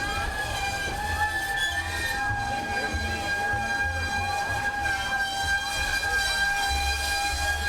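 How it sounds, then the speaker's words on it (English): A train rolls along a live railroad, with a sustained tonal horn or whistle chord ringing steadily over a low rumble of rail cars, moderately distant and continuous, without speech. "And that is a live railroad."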